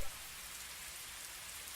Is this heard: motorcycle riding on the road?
no